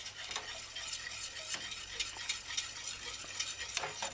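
A spoon stirs barbecue sauce simmering in a pan for Asian-style fried chicken wings: soft repeated scraping and clinks over a quiet bubbling sizzle, close and faint, with no talking.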